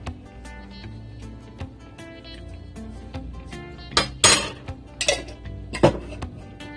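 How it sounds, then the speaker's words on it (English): A metal cooking pot clanks and clinks on the stove as coconut oil goes in, a few sharp knocks near the end over a low kitchen hum. "At this stage I'm gonna put some coconut oil in my pot."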